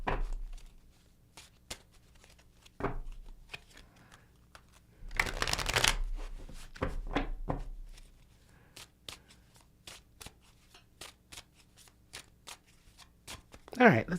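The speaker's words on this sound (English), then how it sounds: "And while I do a little shuffle." Tarot cards are shuffled by hand in repeated short riffling bursts, with a longer, louder flurry in the middle, set against a quiet background.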